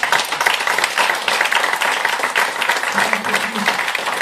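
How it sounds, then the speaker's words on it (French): An audience applauds a performer, Daniel Maillot, with dense, continuous clapping throughout, and a faint low voice briefly surfaces beneath it toward the end. "je vous demande d'applaudir Daniel Maillot"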